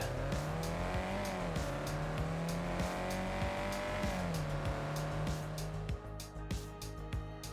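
A Group B rally car in the racing game Dakar 18 roars continuously, its engine note rising and dipping as it accelerates and shifts, with faint tire squeal and sharp clicks scattered throughout.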